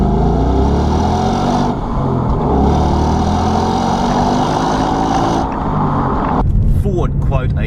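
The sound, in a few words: Ford Mustang GT V8 engine revving, manual transmission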